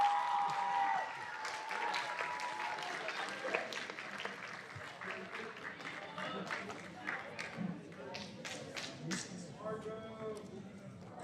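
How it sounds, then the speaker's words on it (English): Applause at an 8th grade school awards ceremony, fairly faint and scattered, tapering into thinner clapping, with a few voices cheering or calling out over it. "Let's give them all a round of applause."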